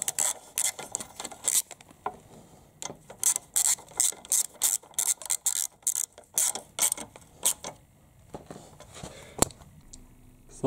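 A hand ratchet tightens exhaust screws on an Aprilia Leonardo 125 scooter, giving close, crisp clicking bursts in quick repeated strokes, with short pauses between runs.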